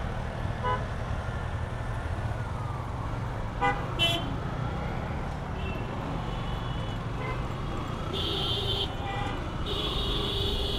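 A traffic jam in Gulshan: a steady wash of nearby car and motorbike engines, with several short horn toots scattered through it and a cluster of honks near the end.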